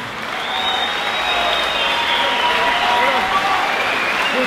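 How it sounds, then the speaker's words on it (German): An audience at a kickboxing fight night applauds a fighter: steady, dense clapping from a large crowd that holds evenly throughout, loud and continuous with no voices standing out. "Ich darf auch um einen Applaus ersuchen für Bislan Batschaev"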